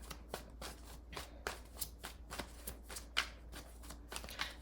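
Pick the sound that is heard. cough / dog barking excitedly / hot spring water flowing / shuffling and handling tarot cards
shuffling and handling tarot cards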